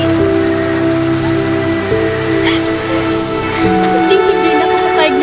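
Steady rain hisses throughout a dramatic scene, mixed with sustained musical tones, a constant loud wash of drops with no breaks.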